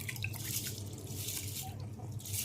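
Rice is poured into boiling water spiced with cloves and bay leaves for fish biryani, giving soft splashing, dripping and bubbling that stays quiet and close throughout.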